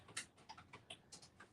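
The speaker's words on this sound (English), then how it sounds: "he's typing" Someone types on a computer keyboard, giving faint, irregular clicking taps in a quiet room with no talking.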